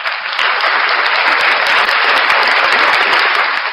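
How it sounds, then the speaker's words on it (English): Loud, continuous clapping from a group, a dense even patter that holds steady from start to finish with no voices on top. "Round of applause for NCR."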